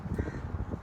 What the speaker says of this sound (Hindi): कौवे की पीछे से आवाज़ आई ना